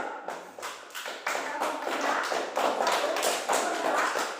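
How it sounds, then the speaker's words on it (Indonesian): A small group claps in quick, uneven bursts, close by, with sharp tapping hand sounds filling the room and no talking. "Tepuk tangan kelompok 1"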